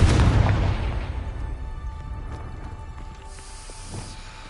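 A Confringo explosive spell goes off in Hogwarts Legacy, a loud, close burst at the start that rumbles low and then fades into a long, dwindling tail with faint tonal game ambience behind it.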